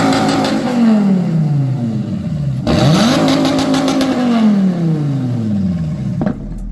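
A slightly modified 8.4-litre V10 in a Dodge Viper revs hard and close, its pitch falling, then surging up again and holding before sliding down, with a sharp pop near the end.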